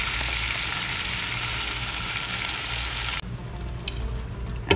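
Marinated chicken and spices hitting a hot pan set up a loud, dense sizzle that hisses steadily up close, then abruptly drops to a quieter simmer with a few faint clinks near the end.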